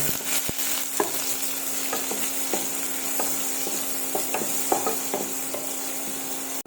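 Onion frying with mustard seeds and asafoetida in a pan, a steady dense sizzle close by with occasional sharp crackles and stirring clicks throughout, no voices.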